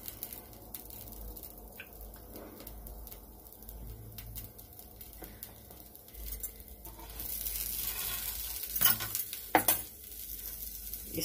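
Puran poli roasting with ghee on a griddle, giving a steady close sizzle with scraping and clinks of a spatula, growing louder and busier toward the end.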